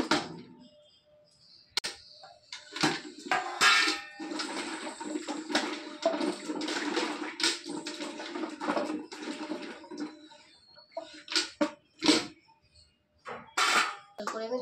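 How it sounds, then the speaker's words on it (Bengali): Raw turmeric roots being washed in water, with bursts of splashing and rushing water that come and go, stopping briefly and then returning in short splashes near the end. "তা চলুন হলুদগুলো আগে একটু ধুয়ে নেওয়া যাক।"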